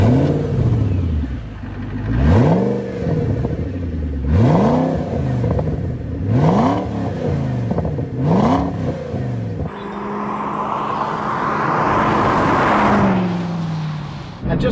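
Ford GT engine revving on a British road, a series of four or five loud, close blips with rising and falling pitch, then a sustained roar as the car pulls away and drives under wind rush.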